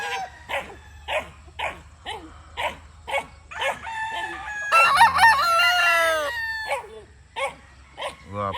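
A Roundhead gamefowl rooster crows in a long, loud, close call, set among a series of sharp repeated barks or clucks before and after, with someone talking nearby.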